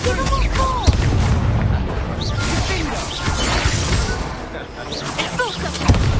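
Spell blasts from the Expulso explosion charm in a Hogwarts Legacy duel: several sharp booming impacts and whooshes spread across a busy mix of game effects and voices, loud and close throughout.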